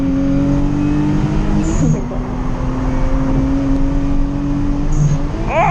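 A 3.0-litre twin-turbo VR30-swapped Nissan 370Z engine drones and revs nearby, the pitch climbing and dropping as it works through gears, with road noise underneath.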